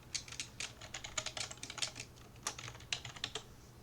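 Rapid, uneven keystrokes from a computer keyboard as code is typed, crisp clicks close to the microphone over a faint steady hum, with no voices.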